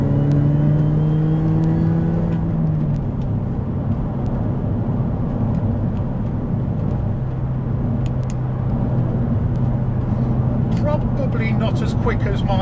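A supercharged MINI Cooper S R53 JCW GP1 engine drones steadily from inside the car, with a rising whine early on that fades into a continuous engine hum, and faint voices in the background.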